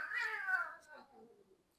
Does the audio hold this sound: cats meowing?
yes